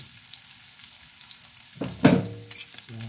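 Onion and garlic sauté in a pan for a shrimp paste and mung bean dish, a faint sizzle that bursts into a loud scraping stir near the end, close by.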